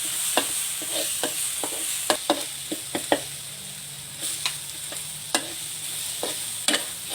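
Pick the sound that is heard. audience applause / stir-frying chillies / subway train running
stir-frying chillies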